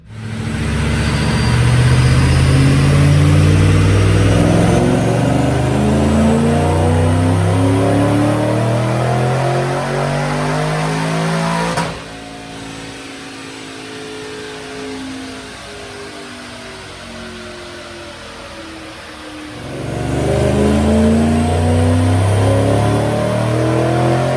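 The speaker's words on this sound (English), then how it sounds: "let's make a couple dyno pulls and get this party started" A supercharged 2007 Ford Mustang with a Paxton blower and automatic transmission roars close and loud through a dyno pull, revs climbing for about twelve seconds, dropping to a lower idle-like drone, then surging again near the end.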